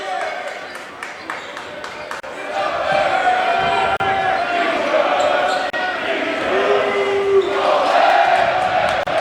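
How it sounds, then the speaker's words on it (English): A noisy crowd at a high school boys' playoff basketball game roars and cheers, building louder through the second half, with ball bounces and sneaker squeaks beneath a commentator talking throughout. "Crowd's getting noisy here."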